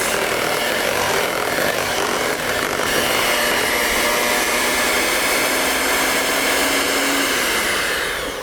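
An electric mixer whirs steadily for several seconds through vanilla cupcake batter, a continuous close buzzing hum with no voices over it.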